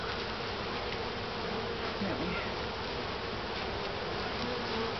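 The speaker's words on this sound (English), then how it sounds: "he's going to brush the bees off" Honeybees swarm close around an opened top bar hive during a honey harvest, producing a dense, steady buzzing drone that holds for the whole stretch with no talking.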